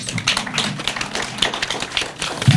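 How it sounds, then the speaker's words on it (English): Applause from the audience at a legal aid organisation's strategic plan launch, a dense patter of many hands clapping steadily throughout, moderately loud with no voices over it. "Let's give her a round of applause"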